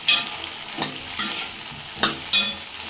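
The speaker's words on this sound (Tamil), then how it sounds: "கால் கிலோ வெண்டைக்காய் கட் பண்ணி வச்சுருக்க சேர்த்திக்கலாம் சேர்த்து நல்லா கிளறி விட்டுக்கலாம்" Chopped okra frying in a pan is stirred in a few distinct scraping strokes over a steady bright sizzle, close and fairly loud, with no talking.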